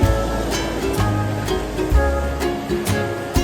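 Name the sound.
sea waves at high tide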